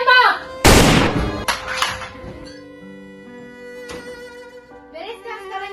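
Gunshots in an Indonesian student short film about the G30S/PKI events: one loud, sharp shot followed by a few quicker, fainter cracks, then quieter ringing and scattered voices.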